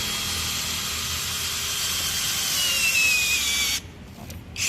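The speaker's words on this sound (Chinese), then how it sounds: "我们再钻一孔" A cordless 20V drill fitted with a long spiral auger bit bores into garden soil, a steady loud motor whine with gritty scraping that cuts off abruptly near the end, then briefly restarts.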